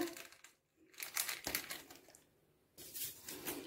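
A packet of yeast crinkles and rustles as it is opened and poured onto flour for soft country-style cakes, in faint, close, irregular bursts with brief pauses between them.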